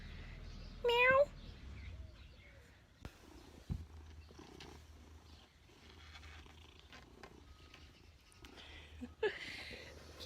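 Pet cat purring softly up close in a quiet room, with one short rising meow early on and another faint meow near the end, a person speaking quietly in between.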